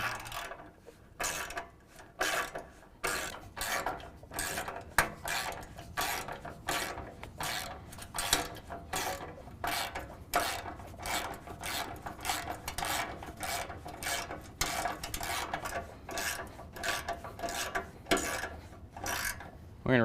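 A ratchet wrench clicks in rapid, repeated bursts while tightening the bolts of a Hammerhead LED bull bar on a 2017 Ford F-250, close and loud, with brief pauses between runs.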